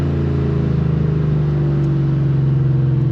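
A car on an E85 tune drones loudly under a steady pull, its engine holding a deep, sustained note that rises slightly in pitch as it keeps accelerating, recorded from inside the cabin with no speech.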